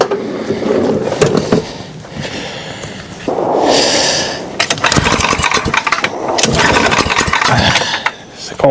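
Old snow blower engine being pulled and cranked, sputtering and catching into a loud, rough running roar with uneven revving, close by and outdoors in the cold.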